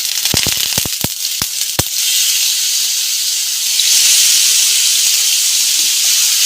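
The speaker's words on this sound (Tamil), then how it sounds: "டேபிள் ஸ்பூன் எண்ணெய் விட்டு இந்த மீன் எடுத்து அதில் போட்டுருவேன்." Fish laid into about three tablespoons of hot oil in a pan, with a few sharp crackles and pops at first, then a loud, steady sizzle and hiss that stays up close and even throughout.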